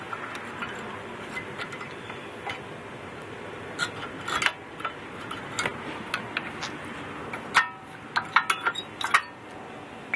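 A screwdriver pries the brake pads off a 2004 Kia Rio, producing faint metallic clinks and scraping ticks over a steady background hiss, with a cluster of sharper clicks near the end.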